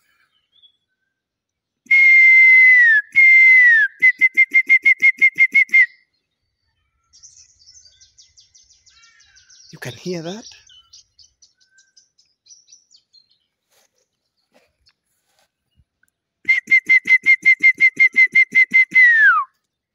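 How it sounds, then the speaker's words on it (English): A wild kiwi bird calls in a New Zealand landscape: loud series of shrill, repeated whistles, each run rising or falling, with a quiet gap between where a voice briefly speaks. "The sound of kiwi bird."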